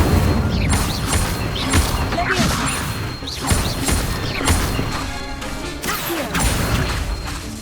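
Incendio fire spells cast repeatedly in Hogwarts Legacy, a run of loud bursting blasts and crashing impacts in an uneven rhythm, each crack followed by a roaring whoosh, with a voice speaking faintly beneath.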